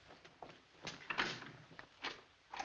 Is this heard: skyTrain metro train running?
no